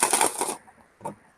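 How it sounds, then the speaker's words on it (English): Tarot cards are shuffled with a quick burst of crisp riffling, followed by a pause and then one short final flick, all close and quiet. "we're going to give our trusty rusty cards a shuffle"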